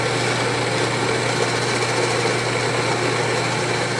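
A Rancilio Rocky espresso grinder grinds a single shot on the espresso setting, giving a steady, even motor whir with a high grinding hiss, close and constant, with no talk.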